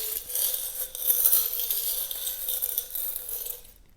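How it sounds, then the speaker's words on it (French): Small metal amulet charms clink and jingle together as one is drawn out, a bright continuous metallic rattle up close that fades to silence at the end. "Ok, désolée pour le bruit, je vais tirer l'amulette."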